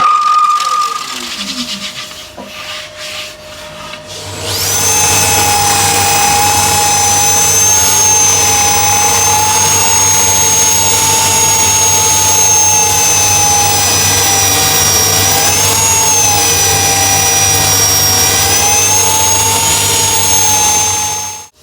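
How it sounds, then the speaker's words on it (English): A drill sander spins up against a large maple bowl and runs at a loud, steady high-pitched whine with a grinding hiss, its pitch wavering slightly before cutting off. "after another 5 minutes or so sanding with the drill and with the inertia sander"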